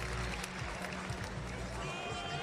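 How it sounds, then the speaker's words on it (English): Crowd applause rings out continuously at a para athletics world championships stadium in Paris, a broad steady clapping wash alongside a commentator's voice. "What a round of applause he gets."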